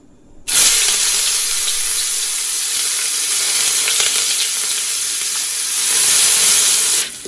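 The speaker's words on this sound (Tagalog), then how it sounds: "In a clean pan, put 2 to 3 tablespoons of oil. Now bring back and saute the ginger." Ginger hits 2 to 3 tablespoons of hot oil in a clean pan, bursting into a loud continuous hiss and sizzle that holds steady for several seconds before cutting off abruptly.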